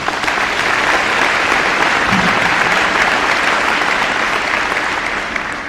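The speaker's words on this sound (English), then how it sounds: "let's give him a round of applause" Sustained applause from a school grand-opening audience, a steady dense wash of clapping that stays loud and even for several seconds with no talk over it.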